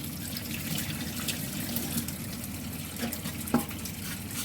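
A steady rush of running tap water, with faint splashing and handling noises, as meat is washed in a kitchen for kholodets.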